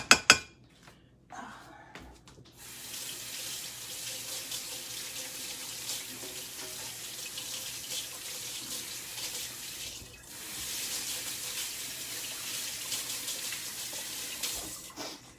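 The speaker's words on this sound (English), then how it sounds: "I think I'm going to go ahead and wash my hands, though, a little bit." Hands being washed under a running kitchen tap at a sink while making vegan chocolate raspberry oat bars: a steady stream of water hisses and splashes for over ten seconds, with brief pauses, a short break and a renewed surge.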